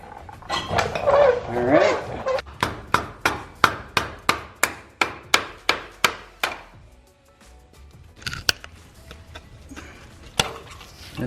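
On a GM truck rear end, a hammer strikes a screwdriver to pop out a brake cable: about fifteen sharp metallic blows in a steady rhythm, close and loud, with scattered clanks after.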